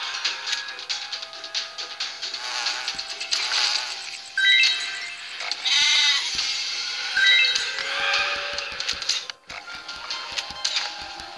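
Cartoonish sheep bleats from the Swamp Attack mobile game come in short wavering calls over dense, busy electronic game sounds and effects.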